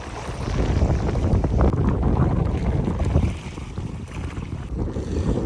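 Strong wind gusts on a pond buffet the microphone from a small fishing boat, a loud continuous roar with low water splashing beneath.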